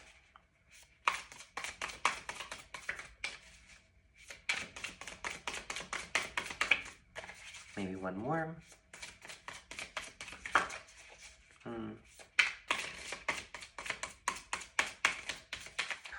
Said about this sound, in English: These cards are shuffling beautifully today